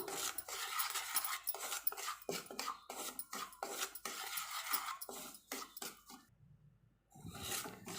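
Semolina being dry-roasted for rava puttu is stirred in a pan, a close, rhythmic run of scraping and rasping strokes of spoon against metal, briefly pausing before the scraping resumes.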